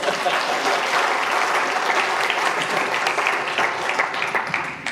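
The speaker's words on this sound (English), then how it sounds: "Can we get a round of applause for our 2 volunteers?" A seminar audience of financial advisors applauds two volunteers, with dense, steady clapping that fills the room at close range for about five seconds and eases slightly near the end.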